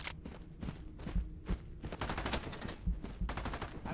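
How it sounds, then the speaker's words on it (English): Rifle gunfire in Into the Radius 2, a mix of sharp single shots and rapid bursts at moderate distance, irregular and fairly quiet overall. "Rifleman shooting me."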